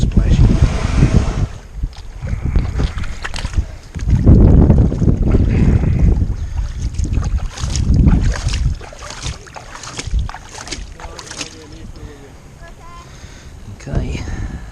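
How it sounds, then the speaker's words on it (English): Water splashes and sloshes onto a Seaflo adult sit-on kayak in several loud bursts close by, mixed with wind buffeting the microphone and a voice speaking between the splashes. "Let's simulate some splashing."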